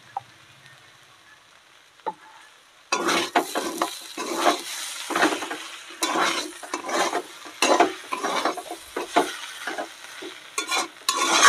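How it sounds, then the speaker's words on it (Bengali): Ghee added to a pan of cooking banana flower (mocha) for a vegetarian Bengali dish, quiet at first, then a sudden loud burst of sizzling with busy stirring and scraping that keeps surging and fading close by. "এইবার আমি পরিমাণ মতন ঘি দিয়ে দেব।"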